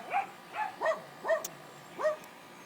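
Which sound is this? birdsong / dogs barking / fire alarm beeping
dogs barking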